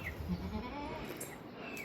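A goat bleats a few times close by, short wavering cries over a background of farmyard noise.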